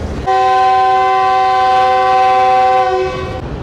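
The Shalimar Express gives a single loud, sustained departure whistle close by at a station, a steady harmonic blast of about three seconds over rumbling background, no talk.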